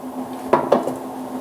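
A utensil scrapes stuck bits off the bottom of a pan while making lobster bisque, with two short, distinct scrapes close by over a steady low kitchen hum.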